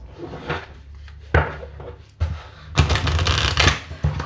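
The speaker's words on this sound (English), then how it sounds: "Let's see how the deck shuffles." A tarot card deck is shuffled by hand close up: dense riffling and flicking bursts, with brief pauses and a louder, rapid stretch toward the end, and no talking.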